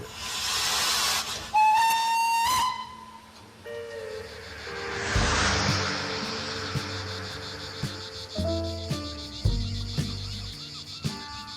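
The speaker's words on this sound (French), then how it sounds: "Le train arrive en gare d'Anduze." A steam train arriving at Anduze station in the Cévennes, with a bright whistle blast, loud hissing steam and a run of clanking, squealing metallic sounds as it draws in, no voices.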